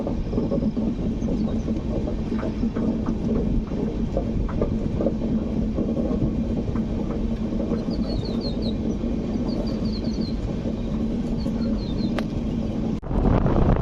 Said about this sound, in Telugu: ఈ ఘాట్ సెక్షన్లో మన ట్రైన్ యావరేజ్ స్పీడ్ అయితే స్లోగా వెళ్తుంది.